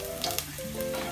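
Garlic frying in hot cooking oil, a close crackling sizzle with a couple of quick pops near the start, steady and fairly quiet.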